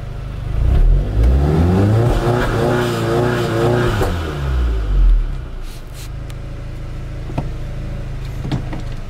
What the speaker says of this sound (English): I'll get an outside clip of the launch control